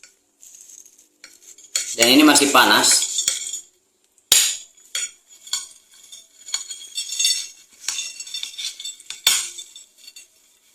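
Metal utensils clink and scrape against a plate and pan as fried potatoes are moved onto a serving dish, with bursts of rattling and a louder scraping stretch near the start; a voice speaks briefly.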